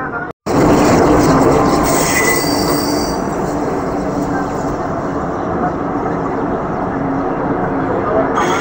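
The 12311 Netaji Express rolls along at a constant loud roar, its wheels squealing high and sustained over the rumble after a brief silent gap at the start.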